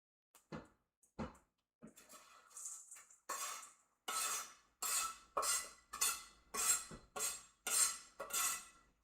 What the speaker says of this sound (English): chopping up breadcrumbs